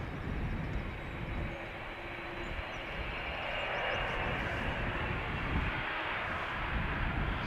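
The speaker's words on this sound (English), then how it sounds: "Seems that the Dreamliner is turning and burning on its way to Chicago O'Hare." A Boeing Dreamliner departs Amsterdam Schiphol from runway 36L, bound for Chicago O'Hare. Its engines make a broad, steady distant roar that holds evenly throughout, with no voices.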